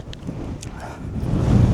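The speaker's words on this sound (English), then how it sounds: "it's windy as hell out here" Wind buffets the microphone outdoors with low, rumbling gusts that grow stronger toward the end, muffling everything else.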